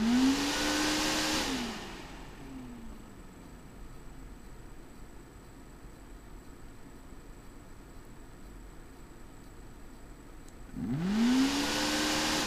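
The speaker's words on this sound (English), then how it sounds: "Let's run the fan." A repaired AVC hydraulic bearing fan spins up with a rising whine, settles into a faint, smooth hum with no rattle, then winds up again loudly near the end.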